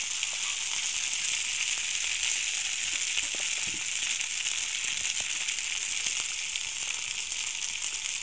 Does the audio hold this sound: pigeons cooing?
no